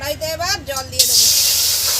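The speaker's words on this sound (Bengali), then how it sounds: "কড়াইতে এবার জল দিয়ে দেবো।" Water poured into a hot karahi just after spices were fried in it sets off a sudden loud, steady hiss that carries on to the end, following a moment of someone talking.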